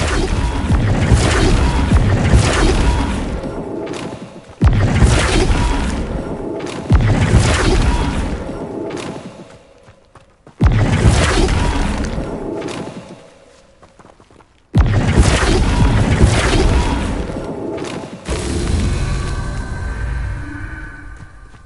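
Flipendo and Depulso spells cast in Hogwarts Legacy on PlayStation 5, a series of loud whooshing blasts and crashing impacts arriving in bursts a few seconds apart, each tailing off.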